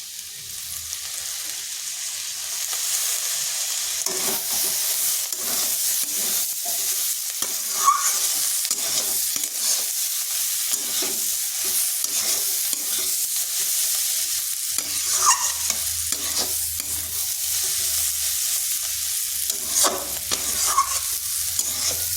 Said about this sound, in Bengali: এইভাবে একটু ভাজা ভাজা করে নিচ্ছি।